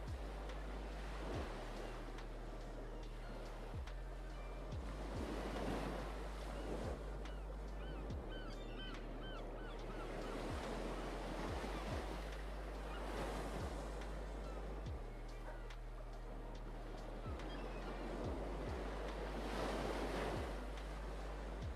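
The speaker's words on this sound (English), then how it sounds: "some kind of like water sound or ocean wave sound" Ocean waves surge and break in slow repeated swells, with a wash of surf and some wind, steady and fairly loud, over a faint low hum.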